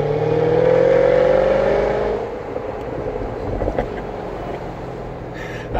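A Jaguar F-Type R with a V8 engine roars loudly from up close as it accelerates while driving, its rising tone settling into a steadier road rumble with wind noise.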